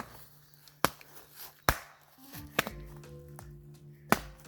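A dad's slipper whipping a tree trunk outdoors gives three or four sharp, dry smacks spaced about a second apart, close and fairly loud, with a low rumbling hum beneath.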